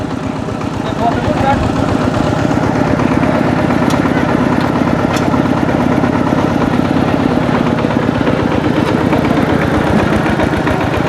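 A small tractor engine runs at a steady idle with a rapid, even chugging and some knocking vibration, loud and close, while people talk over it.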